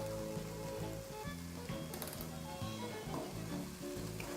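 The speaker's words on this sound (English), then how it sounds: "all I'm going to do is just keep frying the vegetables in the pan here" Onions, carrots, celery, thyme, rosemary and bay leaf fry in a pan for soup. A soft, continuous sizzle crackles quietly and close by, with no talking over it.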